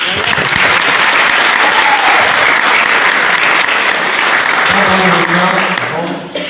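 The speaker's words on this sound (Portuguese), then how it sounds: "A palmas para o Senhor Jesus." Loud, sustained applause from a church congregation fills the room, steady clapping with a few voices mixed in before it tapers near the end.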